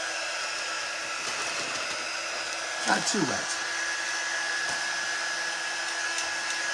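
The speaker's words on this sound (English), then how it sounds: "So I am just going to hit it with the dryer a little bit longer." A hair dryer blows in a steady, even hiss through the clip while nail work is being done, with a brief soft voice over it partway through.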